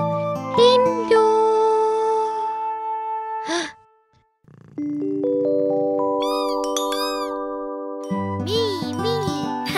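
A cat meows several times amid bright jingling, tinkling chimes and playful cartoon music, with a brief gasp-like sound and a short pause in the middle of the sequence.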